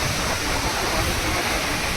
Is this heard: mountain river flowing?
yes